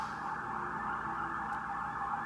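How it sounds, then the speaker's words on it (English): An emergency siren wails steadily somewhere off in the city, faint and continuous as it drifts in the background without voices. "sirens are going off at all times of the day"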